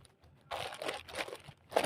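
Crinkly tearing and crumpling of a stiff parcel package being ripped open by hand without scissors, several short bursts close up with brief quiet gaps between them.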